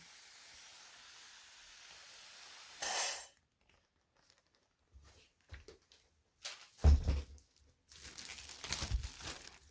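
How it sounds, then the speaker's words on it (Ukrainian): Water misted lightly onto seeds from a hand spray bottle, a few short separate hissing bursts, close and fairly loud, with quiet rustling between them. "сприскую водичкою легенько з полівізатора"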